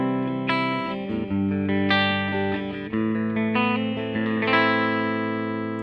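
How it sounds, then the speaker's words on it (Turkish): An electric guitar played through a clean amp tone with no pedals rings out in sustained notes and chords, bright and close, with clear picked attacks and each note left to decay. "Amfimden temiz bir sinyal alıyorum ilk önce."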